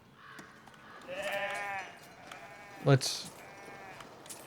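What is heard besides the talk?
sheep bleating from sheep statue in video game Foundation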